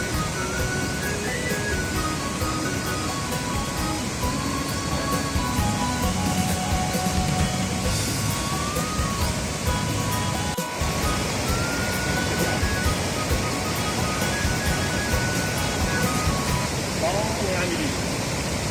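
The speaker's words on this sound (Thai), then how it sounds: "อันนี้ก็จะเป็นบรรยากาศน้ำตกลีพี ดิวดอนคอน บรรยากาศธรรมชาติที่อุดมสมบูรณ์นะครับสวยสดงดงาม" Li Phi waterfall on Don Khone rushing steadily in a lush natural setting, a loud continuous roar of water filling the whole stretch, with faint voices and other sounds mixed beneath it.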